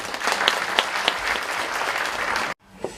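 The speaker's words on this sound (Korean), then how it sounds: "이재정 교육감께 큰 박수로 모시겠습니다." Steady audience applause welcoming Gyeonggi education superintendent Lee Jae-jeong at a forum on the Fourth Industrial Revolution and future education, continuous and moderately loud, with a few sharper claps, ending abruptly near the close.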